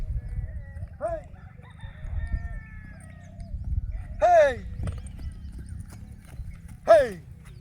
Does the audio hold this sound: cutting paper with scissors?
no